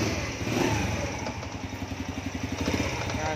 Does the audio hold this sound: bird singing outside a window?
no